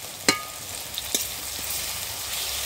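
A paste of garlic, ginger and cumin fries in a pan for a meat dish, a steady hiss with a few sharp spatula knocks and pops near the start.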